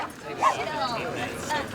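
A dog barks at a smaller dog at an RV campsite, a few soft yips and bow-wows at a distance, heard under people talking.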